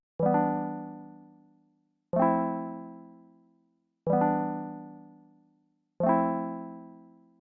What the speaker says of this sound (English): basically any way that you can modulate the pitch, you can create this effect.